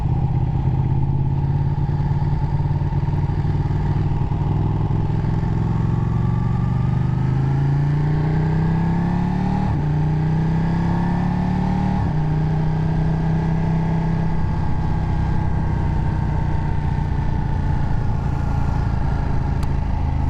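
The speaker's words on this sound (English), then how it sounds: "I'm not sure if the sound's doing it justice on this GoPro, but man, it's loud." A Ducati 1299 motorcycle engine roars loudly throughout a ride, a steady deep drone with rising and falling pitch as it revs and shifts, with wind rush over a helmet-mounted camera.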